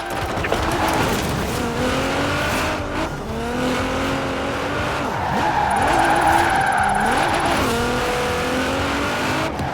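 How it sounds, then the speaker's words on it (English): A Honda Civic Type R in Forza Horizon 4 squeals its tires in long, wavering screeches over a revving engine. The squeal rises and falls steadily for several seconds, loud and close. "Now let's really shred those tires."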